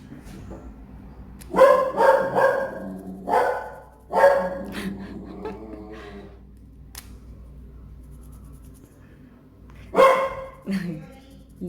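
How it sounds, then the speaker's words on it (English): A dog barks in several loud, close bursts indoors, a cluster of barks early, another after a pause, and a final pair near the end, with quieter gaps between. "That's my dog."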